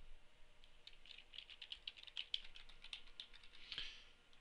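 Quick, light keystrokes on a computer keyboard as an address is entered, an irregular patter of close, quiet clicks in a hushed room.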